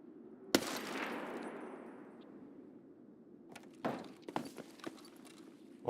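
Gunshots in Escape From Tarkov during a zombie event: one sharp shot with a long decaying echo, then a quieter stretch and a cluster of several more cracks, at moderate level.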